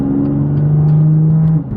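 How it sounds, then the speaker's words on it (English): A BMW M car engine (M2, M3 or M4 class) revs loudly and steadily through a first-gear shift, with a sustained droning tone that drops off abruptly near the end, no talk over it. "All right, first gear shift."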